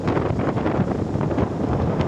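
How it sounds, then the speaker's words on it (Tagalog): Strong wind buffets the microphone at a beach resort near boats and surf, a continuous loud gusty rumble with no break and no voices. "sobrang lakas po ng hangin"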